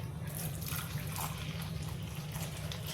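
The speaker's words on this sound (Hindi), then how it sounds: "ये जो मैंने गुड़ बना के रखा है इसका घोल डालेंगे" Jaggery solution being poured into a mixture, a continuous liquid pour with a low splashing gurgle, close and steady.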